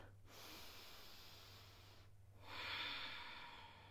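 Slow, steady yoga breathing during a Warrior 2 pose, a long soft exhale followed by a louder, close inhale with a faint nasal hiss, heard alone without talk.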